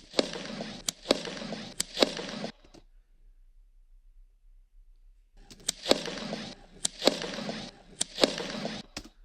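Simulated gunshots play as a rapid series of sharp cracks, each followed by a lower thump, in two bursts separated by a few seconds of silence.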